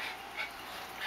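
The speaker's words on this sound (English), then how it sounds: "mira el perro, mira." A dog whimpers softly in two or three thin, high whines, close by and faint against a steady background hiss.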